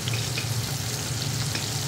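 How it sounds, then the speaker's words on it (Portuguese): Onion and garlic sauté in rendered sausage and bacon fat for a feijoada, giving a steady, close, continuous frying sizzle with no talking. "Agora vamos deixar essa cebola e esse alho dourar."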